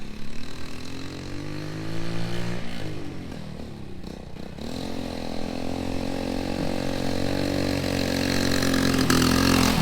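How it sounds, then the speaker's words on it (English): A 1969 Honda Trail 70 motorcycle, running on old gas, sputters and idles steadily at close range for about ten seconds, its small single-cylinder drone dipping briefly midway and rising again. "It's our new shop bike. 1969 Honda Trail 70."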